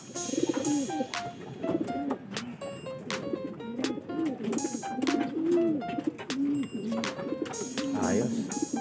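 Pigeons coo repeatedly and close by in soft throaty rolls, with scattered sharp clicks and knocks in the background. A voice talks intermittently among the coos.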